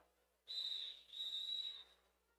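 At a roller derby game, a referee blows a shrill whistle in two sustained blasts, loud and close, with a quiet background in between and no talk.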